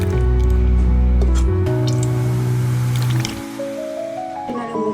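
Homemade curd mixture made with whisked sour yogurt is poured into a container, giving soft wet squishing and dripping sounds over a steady tonal background.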